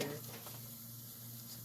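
Ground meat fries in a pan for baked ziti, a quiet, even sizzling hiss close by with no other sounds.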